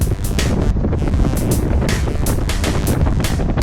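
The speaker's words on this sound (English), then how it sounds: "Listen to that wind, it's picking up." Strong, gusty wind buffets the microphone during a winter bike ride, a loud, continuous roar with rhythmic surges and no voices.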